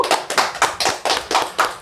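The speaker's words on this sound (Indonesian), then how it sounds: "tepuk tangan." A small group claps in a loose, quick rhythm for Cai Siswandi on the Pondek Kesah Ayumi podcast, close, dry hand slaps repeating steadily with no voices over them.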